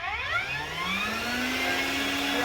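A vacuum cleaner switched to its high suction setting roars steadily, its motor whine climbing in pitch as it spins up, loud and close with no talk over it.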